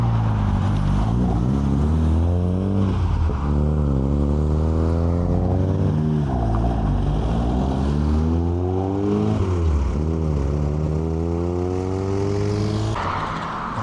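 A lowered Mazda MX-5 at a farm shop car meet revs with rising and falling engine tones, sweeping up repeatedly as it pulls away, loud and steady against a continuous roar of other engine noise.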